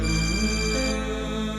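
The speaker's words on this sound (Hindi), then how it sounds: "आपका फोन बज रहा है।" A phone ringtone plays as a sustained, bright electronic melody, loud and close, with its tone shifting slightly about halfway through and no talking.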